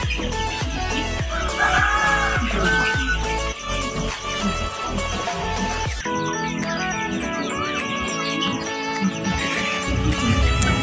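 A farm flock of Darag native chickens clucks and crows, a busy layered chorus of bird calls mixed with other background sounds, steady and fairly loud throughout.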